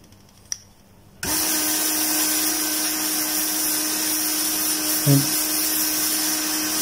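Hot air gun used to desolder a USB charging port on an Infinix phone switches on after a second of quiet, then blows with a steady, loud, whining rush that continues to the end.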